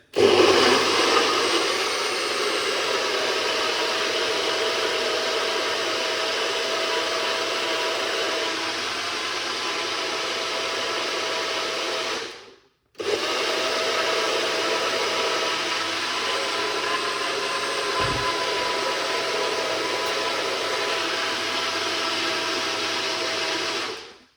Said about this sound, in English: Let's blend.